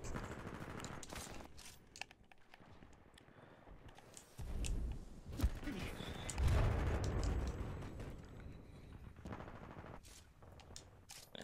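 Rapid bursts of gunfire and explosive impacts in the Titanfall 2 shooter, irregular volleys swelling and fading across several seconds, heavier booming near the middle, with no voice heard.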